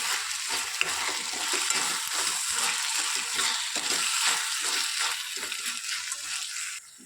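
Tomato sauce and soy sauce being stirred in a hot pan while making dry paneer chilli, a steady sizzling fry with scraping spoon strokes throughout, close and fairly even, ending abruptly.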